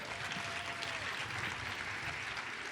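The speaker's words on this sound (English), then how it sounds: "let's give them another round of applause" An audience at a sorority chapter's Miss Jabberwock event claps in a steady, dense wash of applause, moderately quiet and even throughout.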